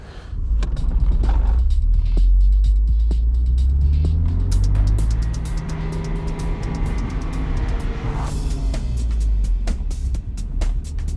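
A manual-transmission car driven by a first-time learner rumbles and drones nearby, engine pitch rising and falling as it accelerates and shifts, with faint ticking clicks over the steady road rumble.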